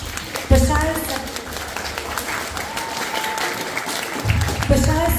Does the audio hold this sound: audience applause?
yes